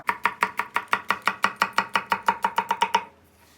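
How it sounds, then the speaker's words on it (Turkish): A knife chops a red kapya pepper rapidly on a cutting board, about fifteen crisp strikes that speed up slightly before stopping, close and clear with no talking. "İçine bir tane de kapya biber doğrayacağız."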